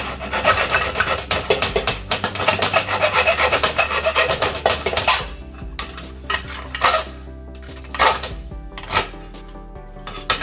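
Rough, continuous rasping of tough material being cut for a homemade drip bowl, loud and close for several seconds, then giving way to a few separate scraping strokes with pauses between them.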